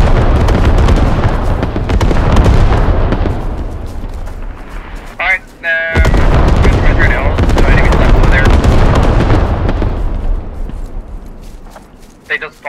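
Machine gun fire in the military shooter game Squad, dense and loud, with rapid bursts running nearly throughout and voices talking over it.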